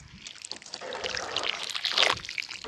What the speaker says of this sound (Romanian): Să-i mai punem puțină apă.